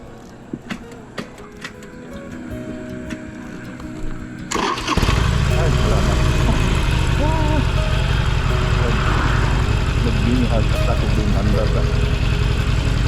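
Car engine on a road trip between Cebu City and Zamboanga City cranks and fires up after a few seconds of quiet background, then settles into a loud, steady, close idle.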